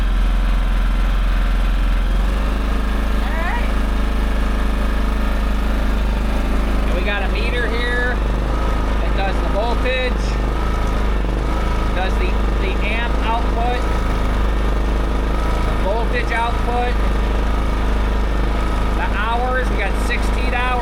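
A Harbor Freight Predator 5000 generator engine runs continuously and loud at a steady drone after a brief start, while someone talks over it.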